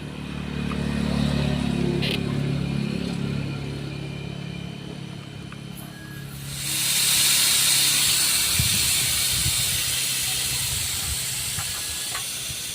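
A strong, continuous hiss of pressurized gas escaping from a leak in a Bostonbay air conditioner that isn't cooling, swelling partway through and continuing over a low mechanical rumble.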